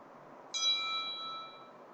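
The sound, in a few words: doorbell ringing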